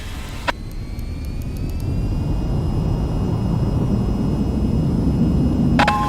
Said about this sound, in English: Now to take off, raise the throttle to full and steer to keep aligned with the runway.